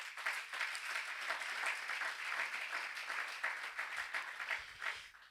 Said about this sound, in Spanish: ¿Cuántos dicen amén y le dan un aplauso a Jesús por eso?